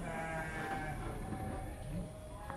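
Sheep bleat faintly in a Garut sheep pen, several soft calls blending into a steady background of pen noise.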